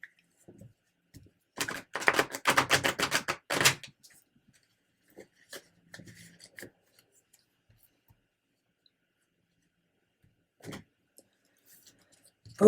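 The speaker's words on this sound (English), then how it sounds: "I want to give it one more shuffle." Tarot cards are shuffled in a quick burst of dense riffling flutter lasting about two seconds, close and fairly loud, followed by a few faint taps and soft handling noises in near silence.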